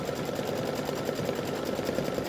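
An embroidery machine stitches an open zigzag over appliqué fabric for a pumpkin design, a continuous fast mechanical whir and rattle at steady volume with no talking.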